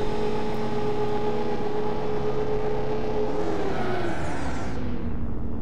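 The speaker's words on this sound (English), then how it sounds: "It sounds less whiny and more like it's got an actual engine that can put out some horsepower." Spacecraft engine in the Star Citizen video game, a steady low droning hum with a rising whir that sweeps upward near the end before cutting off, heard alone without talk.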